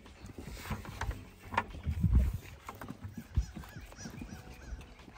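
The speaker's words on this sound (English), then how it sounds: "Crazy goats." Faint scuffling, hoof-like clops and rustling from goats moving about nearby on a farm, with brief bumps and knocks.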